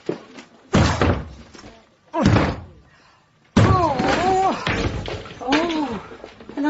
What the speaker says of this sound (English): Right, you've got to break the door down.